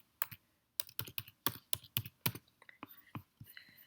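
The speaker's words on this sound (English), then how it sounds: "You just type here the keyword" Someone types a search keyword on a computer keyboard, giving quick, crisp, irregular keystrokes close to the mic in a quiet room, with a short pause early on.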